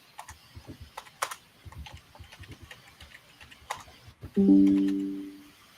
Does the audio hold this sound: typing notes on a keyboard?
yes